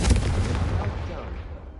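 A Confringo fire spell explodes in a Harry Potter video game, a loud booming blast whose rumble rolls on and slowly fades over the following moments.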